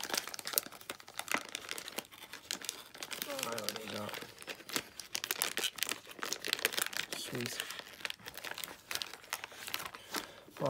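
Close, crackly crinkling of plastic packaging on Yu-Gi-Oh mail being pulled and torn open, with occasional brief speech in the background.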